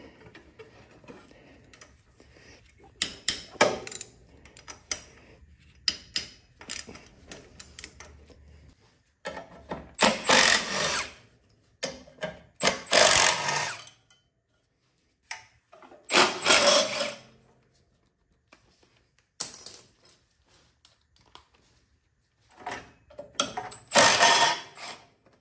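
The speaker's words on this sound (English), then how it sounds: "So now I'm loosening the head bolts." Riding lawnmower engine head bolts are loosened by hand, giving irregular bursts of close ratcheting clicks and short mechanical rattles, separated by quiet gaps.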